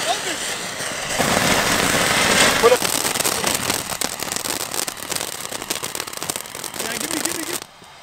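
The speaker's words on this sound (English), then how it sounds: "Okay, everything's gonna blow up soon. Watch this, it's exploding." Fireworks going off: a dense, continuous crackling and popping barrage that swells and persists for several seconds, fairly close, then cuts off abruptly.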